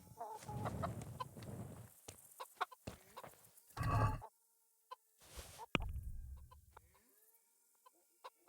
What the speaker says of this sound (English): There's more chickens.